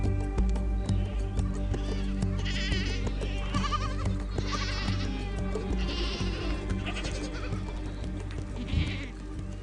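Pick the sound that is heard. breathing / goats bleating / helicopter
goats bleating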